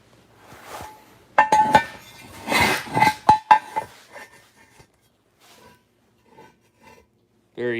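Metal parts clinking and scraping as a special intake manifold is fitted onto rare Buick V6 Stage 2 competition racing heads, with a cluster of sharp nearby knocks early on, then sparse faint taps and a brief louder sound at the end.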